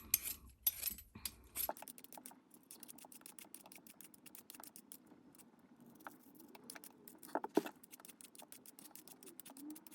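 Potatoes being peeled by hand in a home kitchen, faint scraping and light clicking strokes at an irregular pace, with a few sharper taps of utensil and knocks, quiet and close with no talk.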